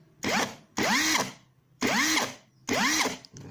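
A cordless impact wrench loosening a nut fires in four short bursts, each a whirring, hammering rattle with rising and falling pitch, close and loud with brief pauses between.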